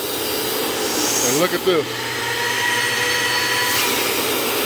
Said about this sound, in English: I'm just dry vac.